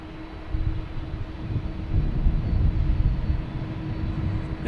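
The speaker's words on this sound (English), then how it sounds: "Our next coming in is a Embraer Phenom coming in from Peterborough." An Embraer Phenom business jet landing at Boston Logan Airport, its broad low engine roar swelling steadily and holding at close, moderate loudness without talk.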